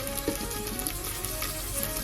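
Onion frying in a pan while being stirred, a dense, continuous sizzle with soft scraping and light taps, close and steady, without speech.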